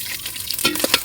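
Green fenugreek, mustard seeds and chopped coconut fry in hot oil over a wood-fired stove, a brief close sizzle with quick stirring scrapes and a couple of sharp pops near the end.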